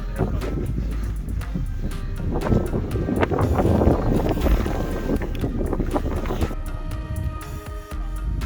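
Wind gusting across the exposed Tarmachan Ridge on Meall nan Tarmachan, a continuous loud rushing and buffeting that buries the microphone, with a brief voice underneath.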